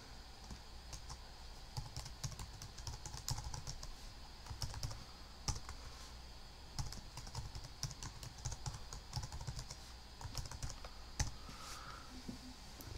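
Password being typed on a computer keyboard, a quiet close run of uneven key clicks and taps with short pauses, no voices.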